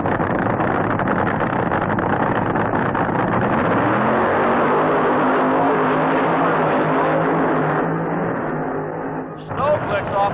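A funny car drag racer blasts down the strip in a sustained, loud engine roar that holds steady for several seconds, then drops off abruptly near the end, with an announcer's voice over it.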